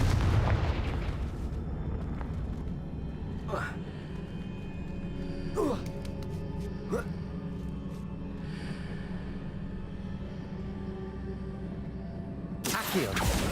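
Confringo spell blasts go off during Percival Rackham's Trial in Hogwarts Legacy: a heavy burst opens, then several sharp crackling impacts follow at irregular intervals over a low rumble, ending with another loud blast.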